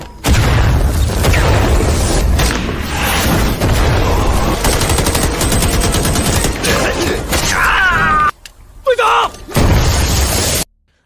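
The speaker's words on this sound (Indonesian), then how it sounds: "Ha Zong yang terluka akibat ledakan granat segera dievakuasi" Action-film battle noise: dense bursts of gunfire and booming grenade explosions fill most of the stretch, loud and continuous, broken by a short near-silent gap near the end, with a narrator speaking over it.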